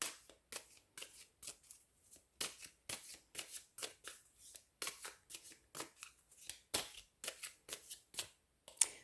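Tarot cards are shuffled up close in quick, repeated riffling bursts, each a soft papery flutter followed by a brief pause, quiet and alone.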